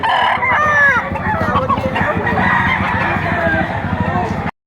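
A gamecock offered for sale at a market in Padre Garcia crows loudly and close, with more clucking and crowing from other fowl behind it and voices murmuring in the background.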